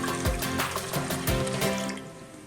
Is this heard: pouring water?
yes